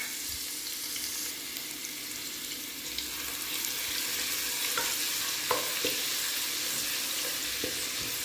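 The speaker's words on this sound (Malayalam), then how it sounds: "ചെറുതായി അരിഞ്ഞ ചെറിയ സവാള അരിഞ്ഞതാണ് ഞാനിത് ഇതിലേക്ക് ഇട്ട് കൊടുക്കാം." Finely chopped small onions fry in a pan for chicken biryani, giving a constant close hiss of sizzling oil with a few scattered clinks and scrapes and no voices.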